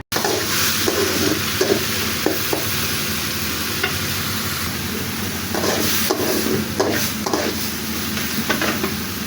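Chopped onion, garlic and two dried chillies fry in oil with a continuous close sizzle, while a spatula scrapes and stirs in intermittent strokes across the pan.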